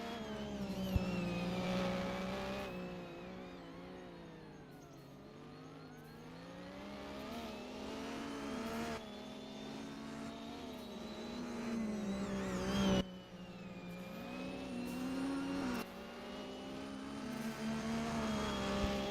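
Supercars racing around a circuit, engines rising and falling in pitch as they rev and pass, with shifting tones and a brief dip before more cars roar through, fairly loud and steady.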